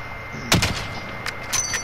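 A single sharp, close gunshot fired in a shooter video game, followed by a couple of fainter shot-like cracks over a low steady game background.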